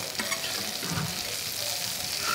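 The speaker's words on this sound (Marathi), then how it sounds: "आता आपण पापलेट भरलेलं पापलेट पालटून घेऊया." Stuffed pomfret frying in a pan after being flipped, a steady close sizzle with faint stirring scrapes running throughout.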